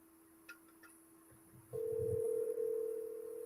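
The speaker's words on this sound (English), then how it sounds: "let me get Jenny on the phone here" A steady telephone dial tone hums faintly, then a few short clicks, then a louder continuous tone sets in and holds as a call is placed.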